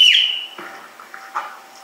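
At the start of a security tryout drill, a whistle gives one short, sharp blast that fades quickly, followed by faint muffled room noise.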